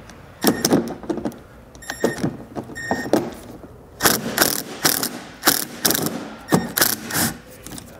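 Phillips head screws are backed out of a 2018 Subaru Outback wagon during a trailer hitch install, with repeated close ratcheting clicks in bursts and short pauses between turns.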